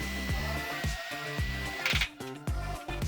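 Self-drilling screws being driven into the metal bars of a gate to fix a flat bar, the loud whining drone of a power driver rising and falling in short repeated runs, close up with no talking.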